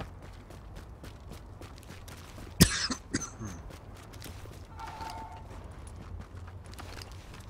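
A character coughs once, sharp and brief, in the PC shooter The Division, against a low ambient game soundscape with rhythmic footsteps.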